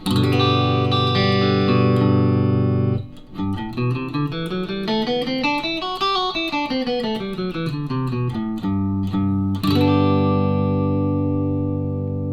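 An electric guitar played on the middle pickup holds a ringing chord, then plays a scale of picked notes rising and falling before returning to a sustained, strummed chord.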